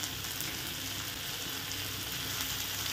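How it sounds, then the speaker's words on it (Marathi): A coconut and garlic masala sautés in a pan with a steady, even sizzle and hiss that holds at a constant level the whole time, with no voices. "परतवून घेऊयात"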